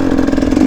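A dirt bike engine revs hard in second gear as the rider sets up a wheelie, giving a brief, loud, steady engine drone up close.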